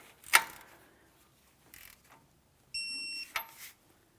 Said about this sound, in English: Let's torque this.